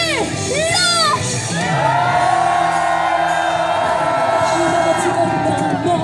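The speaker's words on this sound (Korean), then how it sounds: "그럼 여러분들의 함성 소리 더 힘차게 갈 수 있는 함성 소리 들어볼게요" A large crowd at an outdoor candlelight rally roars with loud, sustained cheering, whoops and shouts that fill the space, while a voice carries over the noise.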